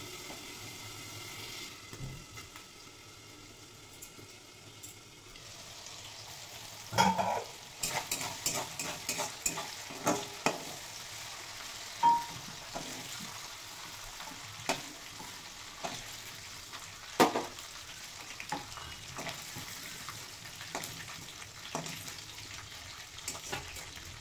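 Chicken mince with skin frying under a lid, a low steady hiss that turns after a few seconds into sharper crackles and spattering pops, close and continuous, with no talking.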